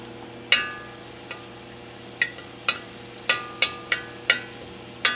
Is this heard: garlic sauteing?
yes